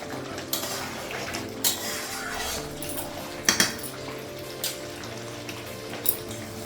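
A pot of rice being set on to cook, with metal pot and utensil clanks and clinks at irregular intervals, including a sharper double knock, over a quiet steady kitchen background hum with no talk.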